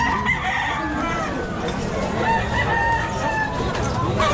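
White Kelso gamefowl rooster crowing at a busy pet market, its repeated crows riding over a dense, continuous din of other fowl and crowd noise.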